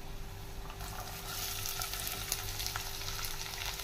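Onion frying in oil in a pan with roasted peanuts for poha, a steady broadband sizzle that picks up and grows fuller after the first second, close and continuous with no talking.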